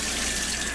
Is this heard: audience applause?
no